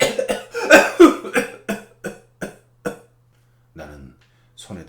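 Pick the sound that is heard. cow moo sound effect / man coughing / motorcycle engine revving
man coughing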